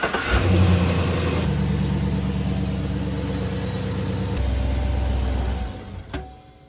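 A Chevrolet gasoline engine in a truck cranks and catches, then revs loudly and runs for several seconds before falling away as it's cut, close by and with no talking over it.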